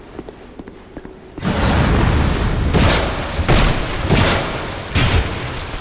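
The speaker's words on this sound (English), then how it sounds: "The dude's like shooting a cannon at me." In Dark Souls 2, an enemy fires a cannon: after a quiet opening, loud, heavy booming blasts arrive repeatedly, one big report followed by several more deep impacts at roughly one-second intervals, with rumbling in between.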